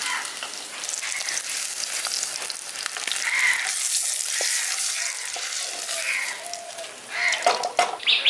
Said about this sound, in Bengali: ডিমগুলো হালকা করে লালচে করে আমি এখানে ভেজে নিয়েছি